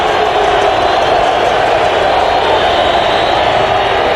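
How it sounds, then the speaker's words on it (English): A large football stadium crowd at a Division 1-AA semifinal, Appalachian State at Montana, roaring steadily for the Grizzly defenders, a loud, unbroken wash of massed voices. "the Grizzly defenders calling on the crowd to make some noise"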